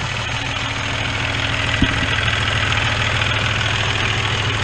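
A farm tractor engine idles steadily after an oil change, a loud, continuous low rumble with a faint knocking texture and one brief clunk partway through, close by with no talking.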